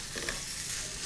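Risotto rice with roasted butternut is stirred in a pan, giving a soft continuous scraping and gentle sizzle, close but quiet, with no talk over it.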